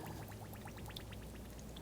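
Brake fluid, DOT 3 or 4, poured from a bottle into the brake fluid reservoir of a 2014-2020 Nissan Rogue, a steady close trickling pour lasting a couple of seconds with no talk.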